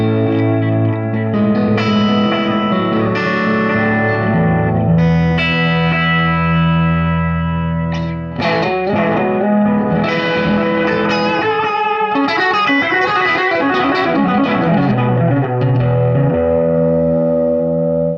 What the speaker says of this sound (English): we'll turn this echo up. Get this thing kind of cascading a little bit.